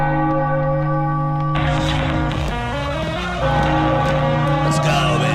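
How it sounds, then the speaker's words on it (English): A big bell rings loud and sustained to celebrate a Phillies 6-0 shutout win over the Pirates, its deep tones swelling with layered clangs and a faint voice behind it. "Ring the bell, Philadelphia."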